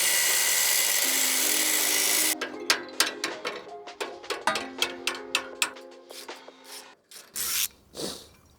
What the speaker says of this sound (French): Je vais venir meuler la pièce fusible pour pouvoir accéder aux vis qui sont derrière.